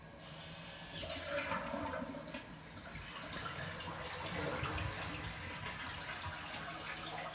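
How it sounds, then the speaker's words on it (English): A toilet flushing at close range, a steady rushing swirl of water that runs for several seconds with no talk over it. "And flushing the toilet."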